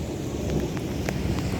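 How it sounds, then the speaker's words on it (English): Rain pouring steadily onto a parking lot outside a Longhorn Steakhouse in Hickory, North Carolina, a dense close hiss with low rolling thunder rumbling beneath it, no voices. "I don't know if y'all can hear that thunder"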